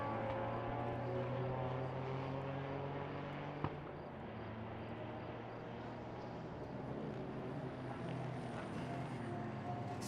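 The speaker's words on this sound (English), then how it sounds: "This is an RS3 Audi" Audi RS3 racing car passing on the Red Bull Ring circuit during a Supercar Challenge race, a quiet, distant engine drone whose harmonic tones shift in pitch as it goes by, with one brief sharp click.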